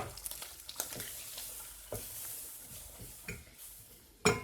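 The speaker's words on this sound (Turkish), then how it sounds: "Ocağın altını biraz kısıp bu şekilde karıştırıyorum." Flour and tomato paste being stirred in a soup pot over lowered heat, a faint steady sizzle with scattered soft ticks and scrapes from the spoon, ending in one louder scrape.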